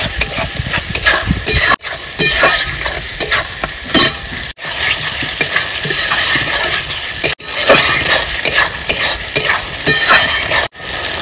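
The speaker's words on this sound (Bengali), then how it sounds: "আদা রসুন বাটা, শুকনো লঙ্কা বাটা, জিরে বাটা, লবণ, হলুদ গুঁড়ো, সবকিছু দিয়ে সুন্দর করে আমি মশলাটা কষিয়ে নেব।" Spice paste of ginger-garlic, dried red chilli, cumin, salt and turmeric frying loudly in oil for a mutton curry, steady sizzle with repeated stirring scrapes and brief pauses, no talking.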